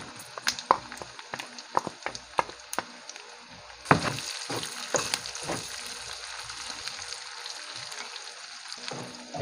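Onion dropped into hot oil with garlic for Bicol express, a steady close frying crackle broken by sharp ticks and pops, rising into a denser sizzle about midway, with no one talking.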